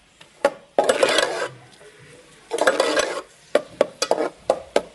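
Onion dropped into hot ghee in a pan, bursts of loud sizzling alternating with stirring scrapes and sharp utensil knocks against the pan, close up with no talk.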